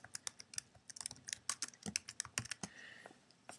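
Quiet, close keyboard typing as a new page title is entered, with crisp individual keystrokes in quick uneven bursts and no talking.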